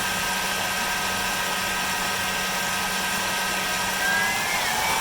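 A Speck Badu Eco Touch variable-speed swimming pool pump runs steadily at its lowest 1900 RPM setting, giving a constant, even motor hum and whine with a low tonal drone and no talking.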